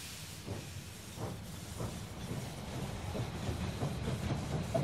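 A steam train in the strategy game They Are Billions pulls into a station with rhythmic chuffing puffs and rising hiss, its rumble growing louder toward the end, with no voices over it.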